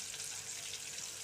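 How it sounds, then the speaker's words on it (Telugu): Eggplant pieces frying in oil for a Telugu-style curd chutney, giving a steady, close hiss and crackle of sizzling that runs without a break through the brief moment, with no voices. "చూసారా, వంకాయ ముక్కలు అయితే చక్కగా ఆయిల్లో మగ్గుతున్నాయి"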